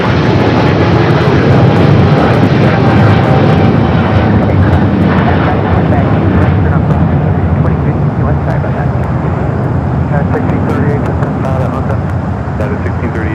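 Jet aircraft roar at Los Angeles LAX airport, a loud continuous engine rumble and whine that stays strong throughout, with faint radio chatter beneath.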